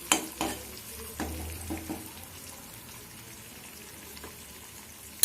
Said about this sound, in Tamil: அப்புறம் அந்த வெத்தலை காம்பு, அந்த ஹீட்லேயே இருக்கட்டும்.